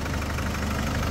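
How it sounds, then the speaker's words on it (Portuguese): A 2010 Nissan Frontier double-cab diesel pickup with manual 4x4 idles steadily, a continuous close rumble with no break and nothing else heard. "Funcionamentão do motor da bruta"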